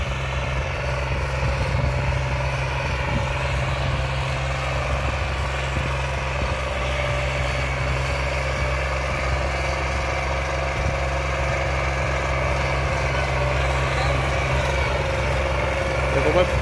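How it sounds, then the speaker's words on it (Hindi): A tractor engine runs at full throttle while pulling a harrow during a field test, a steady, loud, low droning rumble lasting throughout with people talking over it. "बढ़िया चल रहा है ट्रैक्टर तो"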